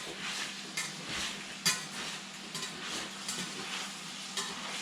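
Steady sizzling of greens in a hot pan with repeated stirring and tossing scrapes, a sharper clank partway through.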